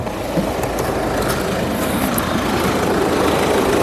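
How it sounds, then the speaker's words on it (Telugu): A 2021 Tata Harrier XZA Plus AMT with its engine running, a steady broadband hum and whoosh holding an even level with no breaks. "ఇంజన్ యొక్క నాయిస్ పర్ఫెక్ట్గా అయితే ఉందండి"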